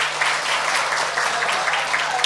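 Audience applause at an Indonesian stand-up comedy show, a dense, even wash of clapping from a crowd, sustained and fairly loud throughout with no voices on top.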